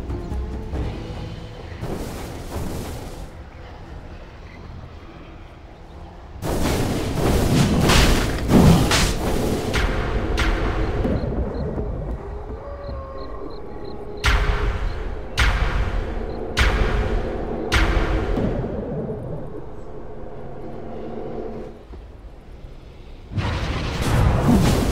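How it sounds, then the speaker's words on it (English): Repeated heavy booms and thuds strike a tower in the Dota 2 game, coming in clustered bursts with gaps of quieter ambience and occasional chimes between the impacts. "Radiant's top tower is under attack"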